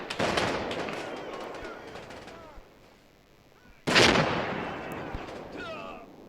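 Panther tank cannon and artillery fire in a World War II tactical war game: two loud, sharp blasts, one at the start and one midway, each trailing into a decaying rumble, with someone talking over it.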